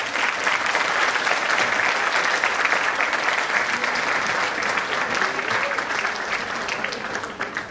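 Sustained, dense audience applause for students at a school annual day celebration for grades 3 and 4, loud and steady throughout and easing slightly at the very end.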